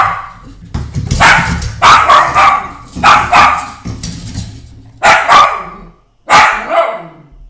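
Loud, close dog barks at a Slinky Dog pull toy come in several distinct bursts separated by brief pauses, insistent and agitated.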